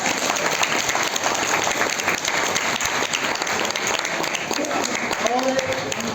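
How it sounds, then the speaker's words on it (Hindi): Loud, sustained applause from a large crowd, dense and steady throughout, with a few cheers rising near the end, at a ceremony honouring a sports player. "बजाओ ताली दोस्तों।"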